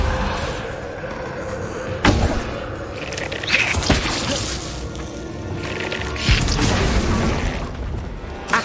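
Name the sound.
Depulso spell blast in Hogwarts Legacy video game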